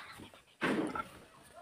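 A single dog gives one short, loud bark close by after a brief quiet stretch, with faint murmuring around it.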